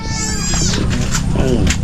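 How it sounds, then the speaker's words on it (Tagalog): Several cats meow in high, wavering calls over steady low background noise, with people talking nearby throughout. "May mga pusa oh."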